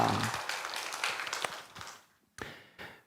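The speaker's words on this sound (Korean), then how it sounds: "하나님께 영광의 박수를 드리겠습니다" A church congregation claps during a Korean worship service, dense applause that fades over about two seconds, followed by a brief silence and a couple of scattered late claps.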